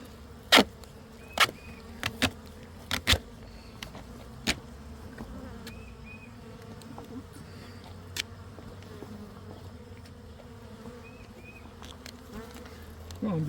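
Faint, steady insect buzzing from honeybees gathering around a trap-out cone during a bee removal, broken by a handful of sharp knocks and clicks early on, with low background rumble throughout.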